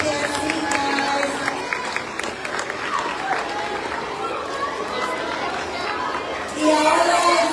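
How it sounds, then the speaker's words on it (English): Steady applause from an assembly crowd as members take their seats, mixed with chatter and cheering voices, swelling louder near the end. "Give them a round of applause as they take their seat"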